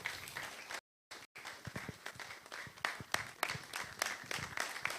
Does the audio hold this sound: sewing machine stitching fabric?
no